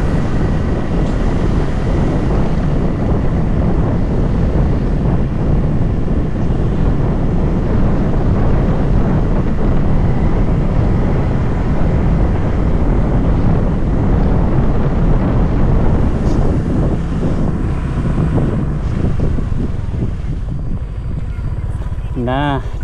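Sea wind buffets the microphone while riding along the coast near Palabuhanratu, Sukabumi, a continuous loud roaring rumble that holds steady for the whole stretch.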